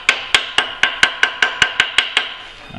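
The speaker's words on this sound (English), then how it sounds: "I'm gonna get a couple love taps with the brass hammer just to kind of see." Brass hammer tapping a tractor axle bushing during line-bore assembly: ten evenly spaced, sharp metallic taps, each ringing briefly, close and clear with no talk.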